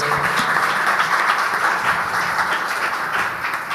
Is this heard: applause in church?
yes